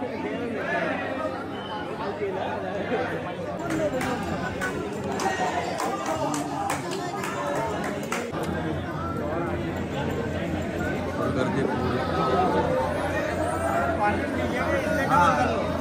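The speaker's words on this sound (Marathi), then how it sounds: "जोरदार गर्दी आहे." Dense, heavy crowd chatter from many people packed into a busy temple, a continuous babble of overlapping voices with occasional nearer shouts and clatter, loud and unbroken throughout.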